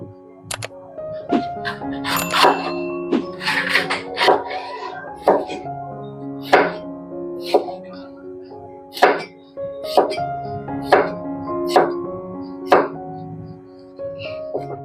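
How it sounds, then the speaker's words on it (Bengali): A knife cuts capsicum into squares on a board for pizza, giving a steady run of sharp, distinct thunks at a loose rhythm, close and fairly quiet, with some speech in places. "প্রথমে ক্যাপসিকামটাকে কেটে নেব।"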